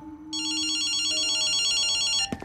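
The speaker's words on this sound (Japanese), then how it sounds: "電話だぜ。" A telephone in the video game Ghostwire Tokyo rings with a loud, continuous electronic bell trill of about two seconds, preceded by faint tones and ending abruptly.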